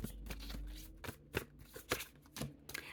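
Tarot cards being shuffled by hand: several quick, crisp riffling bursts in close succession, heard up close with no talking.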